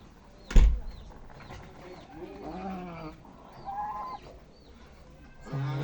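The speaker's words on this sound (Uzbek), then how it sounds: "Bu xonaga ham bitta kurkamiz kurk bo'lyapti." A broody hen clucks indoors in a room, a sharp loud knock or bump near the start, then soft intermittent clucks and murmuring calls that swell and fade, with a low grunt near the end.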